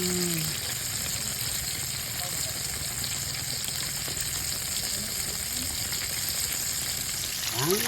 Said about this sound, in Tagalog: Ang malapit na maluto ang ating fried chicken.